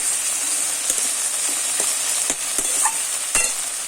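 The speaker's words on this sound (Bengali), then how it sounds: "ভেন্ডি আর আলু ভাজা আমি এখন ভাজছি।" Okra and potatoes fry in a pan of hot oil with a continuous, even hiss, broken by a few sharp spoon taps and scrapes as they are stirred; no voices.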